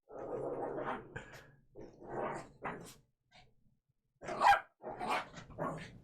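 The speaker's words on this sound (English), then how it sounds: "he's clawing at the floor and barking at it for some reason." A pet dog barks in short bursts and scrabbles its claws against the floor, loud and close, with gaps of quiet between the outbursts.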